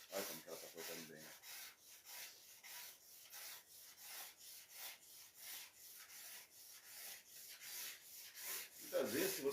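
A steel cabinet scraper shaves wood on a guitar in a luthier's workshop, a quiet series of rhythmic rasping strokes repeating about twice a second, close and alone.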